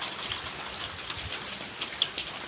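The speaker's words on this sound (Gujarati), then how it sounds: "જુઓ તમે વરસાદ જુઓ" Soft, steady patter of night-time winter rain in a village, with scattered drops tapping nearby, fairly quiet and continuous, with no voices.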